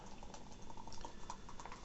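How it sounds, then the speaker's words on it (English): Brewdog Black Heart stout from a widget can poured hard into a glass, a soft fizzing, bubbling liquid rush with faint crackles, quiet and close, no voices. "you need to do a hard pour with these kind of things to get the widget doing its thing"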